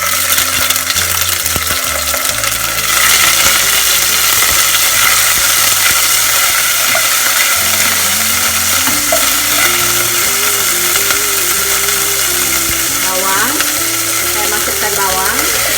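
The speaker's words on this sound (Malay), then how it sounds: "Saya tumis dulu halia dan bawang putih yang sudah dikisar dengan 2 sudu minyak ya." Ground ginger and garlic sautéing in two spoons of oil for a meatball curry, giving a steady, loud sizzle with stirring scrapes throughout, partly under background music.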